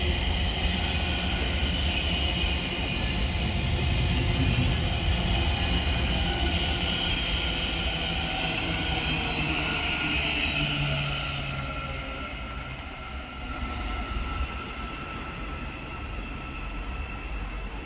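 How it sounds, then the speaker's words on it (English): A Class 700 electric multiple unit, 700-043, runs through Hatfield station on the East Coast Main Line, a long, steady rumbling roar with rail hiss that stays loud, then fades gradually after about twelve seconds. "We have 700-043 from Letchworth Garden City to King's Cross,"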